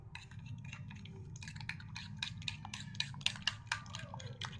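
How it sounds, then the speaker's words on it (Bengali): A spoon scrapes and clinks against a bowl while stirring eggs, sugar, yeast and salt for bun dough, with quick irregular taps over a steady low hum. "আমি চামচ দিয়ে গুলে নিচ্ছি"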